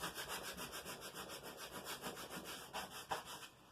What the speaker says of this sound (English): so you're going to use your scraper